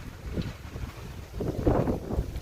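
Wind ahead of rain under dark clouds buffets the microphone in low, rumbling gusts that swell louder toward the end, with no voices.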